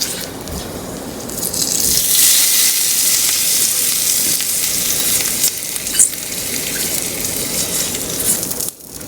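Mustard seeds, asafoetida and urad dal sizzle loudly in hot oil, a steady bright crackle with a few sharper pops, close up and alone with no talking.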